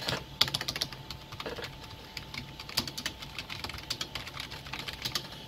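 Keys on a computer keyboard are pressed in an uneven run of light, close clicks and taps, with no voices over them. The keyboard belongs to a custom-built dual Tualatin PC.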